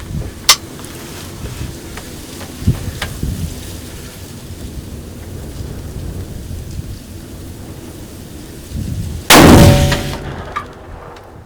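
A rifle shot fired at a whitetail deer during a Midwest hunt, one sudden loud blast near the end that rolls off into a decaying echo, after a long stretch of quiet outdoor background with a few faint knocks.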